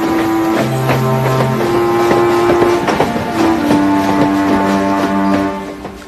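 A cartoon steam locomotive pulls away, giving sustained whistle-like horn tones over rhythmic rail clatter and rumble. The sound is loud and close, with no talking.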